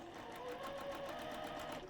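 A sewing machine stitches steadily over magic pins holding fabric, its needle rattling in a fast, even rhythm that runs continuously and close up, with faint talk beneath.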